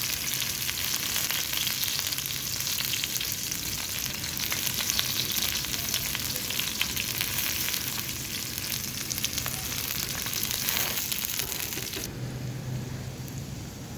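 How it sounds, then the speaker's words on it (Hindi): Onions half-fry in hot oil on a tawa for street-style kaleji masala, producing a dense, even, close-up sizzle that crackles steadily for a long stretch before dropping to a softer, slightly different hiss near the end; nobody speaks. "ये हमने प्याज हाफ फ्राई करना है"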